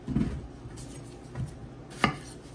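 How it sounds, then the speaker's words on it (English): Knife halving tomatillos on a cutting board: three separate chops spaced out over a couple of seconds, with the last one the sharpest, heard close and alone. "So I'm just gonna half them."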